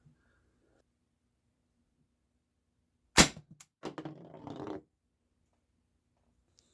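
A single sharp shot from an Umarex HDR 68 air-powered pistol cracks out near and loud after a quiet pause, followed by brief clicks and a short rustling handling noise.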